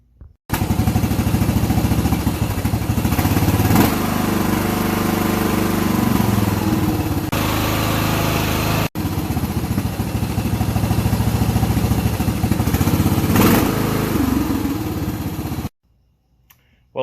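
A cheap used lawn mower's small engine runs loud and steady close by, with slight surges and a brief break midway, then cuts off abruptly at the end; no one speaks.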